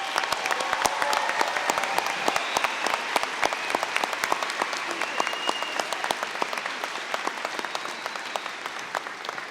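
Steady, dense applause from a large audience honoring standing graduates at a college commencement ceremony, continuous clapping sustained throughout without a break.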